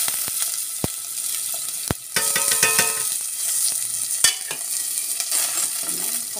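Cooking oil poured into a hot pan, ahead of sautéing garlic for a chicken wings curry, crackles and sizzles nearby, broken by a few sharp knocks and clatters of utensils against the pan.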